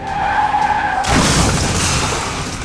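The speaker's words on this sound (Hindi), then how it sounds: "तेज रफ्तार ट्रैक्टर अचानक अपना नियंत्रण खो बैठा और सीधा रेलिंग से जा टकराया।" A speeding tractor skids out of control and slams into a railing, a loud burst of scraping, skidding noise breaking out suddenly and continuing close by.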